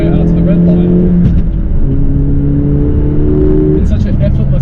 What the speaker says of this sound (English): now the car's kicking in. And then it just extends all the way out to the red line.